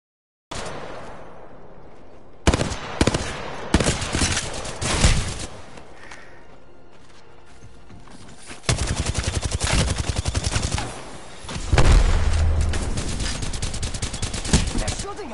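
Gunfire in Apex Legends, loud and close: scattered single shots, then long bursts of rapid automatic fire with thuds in between, and quieter stretches with footsteps and game sounds.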